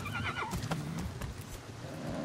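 Horse in the video game Far Cry 6 gives a short neigh and whinny, with a few hoof clops and game effects, fairly quiet overall.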